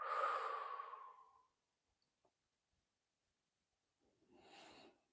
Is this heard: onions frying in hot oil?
no